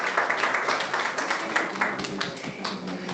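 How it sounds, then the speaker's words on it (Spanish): An audience at a university psychoanalysis conference applauds a speaker with steady, moderately loud clapping from many hands that continues without a break. "Un aplauso para la doctora Marina"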